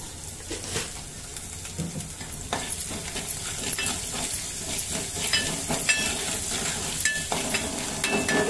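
Sliced cabbage and carrot sauté in a pan with chilli for veg Manchow soup, a loud sizzle broken by repeated scraping and stirring clatter throughout, with no voice.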